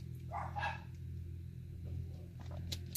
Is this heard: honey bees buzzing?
no